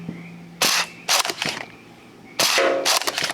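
A Nerf blaster fitted with a Spitfire tracer unit fires foam darts, giving several short, sharp pops in quick clusters with brief mechanical clicks and faint tonal whines between the shots.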